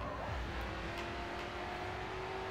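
Racing car engine in the video game GRID 2 holds a loud, sustained revving drone with a steady pitch, filling the whole short stretch without any talk.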